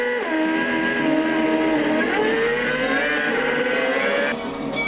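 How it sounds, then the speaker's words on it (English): A McLaren MP4 race car revs hard down a track, its engine note climbing and holding in a loud, continuous whine with no voices. "Francesco revved down the track as fast as he could with his MP4 FB."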